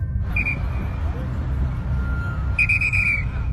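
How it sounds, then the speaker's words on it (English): A woman directing traffic on a street blows a whistle, giving a short shrill blast and then a longer trilling one, over a steady rumble of passing cars. "She turns back to the street and starts blowing on her whistle and waving her flag."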